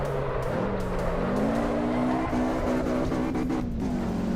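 Race car engine in the AC EVO racing sim revving high with shifting pitch and bursts against the rev limiter, steady and loud throughout, with no talking.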